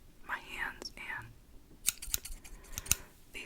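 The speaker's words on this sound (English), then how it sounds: "these scissors." Metal scissors are handled close up in a binaural ASMR sleep evaluation, with a series of crisp clicks and small snips following some soft whispering.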